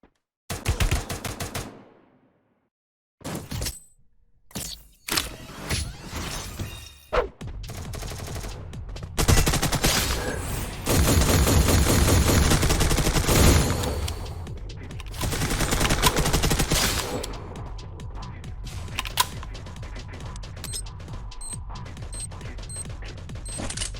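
Gunfire in the mobile battle royale game Free Fire: loud, rapid automatic bursts and volleys that fill most of the stretch, with brief quiet gaps near the start and no talk.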